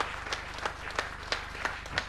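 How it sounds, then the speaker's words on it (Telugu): A stage audience at the Reflection Conclave Sanathana 2023 event applauds with steady, rhythmic clapping, moderately loud and slightly distant, with faint crowd murmur underneath. "ఒక్కసారి రిఫ్లెక్షన్ టీం కోసం మీ అందరి తరపు నుంచి నేను అర్థిస్తున్నాను చప్పట్లు"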